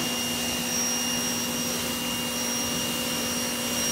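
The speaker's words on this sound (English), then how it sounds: "We have to go around with it, basically. The pressure washer." A pressure washer sprays down a car engine bay, a steady, loud broadband hiss with a constant motor hum running unbroken throughout.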